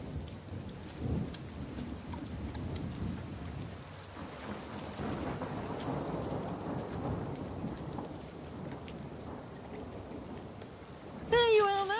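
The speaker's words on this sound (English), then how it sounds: "It's only a spring shower, Johnny" Spring rain shower with thunder, steady rainfall and rumbling thunder filling the scene, with a brief higher tonal sound near the end.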